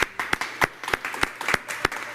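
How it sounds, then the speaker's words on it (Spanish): A studio audience claps for a guest on a TV show, a small group producing distinct, uneven individual claps at close range, with separate sharp hits rather than a continuous roar. "Un aplauso para nuestra invitada."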